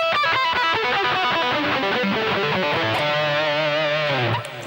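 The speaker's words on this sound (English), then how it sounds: "I want to show you a few pull-off licks now" A distorted electric guitar plays a fast descending lick of quick open-string pull-offs down the E natural minor scale, loud and continuous, ending on a sustained note that fades.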